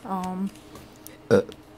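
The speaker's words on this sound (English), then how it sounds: "Sorry, I burped." A man's burp in a quiet room, a short low voiced belch near the start, followed by a brief louder burst about a second later; no talk during it.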